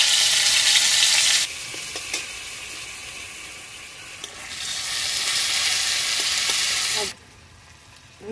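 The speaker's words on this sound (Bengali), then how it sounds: "এবারে এইগুলো একটু ভেজে নেব।" Onion, garlic and spice pastes fry hard in a hot pan, a loud hissing sizzle that drops away, swells again for several seconds, then cuts off abruptly, with a few faint clinks in between.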